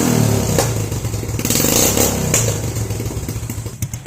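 A motorcycle engine runs through a homemade kalkal exhaust pipe made from a tin can and steel wool, loud and close with a throbbing idle and short revs that rise and fall.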